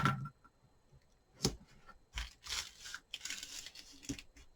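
Tape torn off a roll in several short, ragged rips and crinkles to fix a diamond painting canvas down to a work surface, close up with small pauses between pulls.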